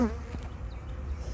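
Honeybees buzz softly around an open hive during an early spring inspection, a steady low insect hum that stays faint and even for the whole moment with no talking.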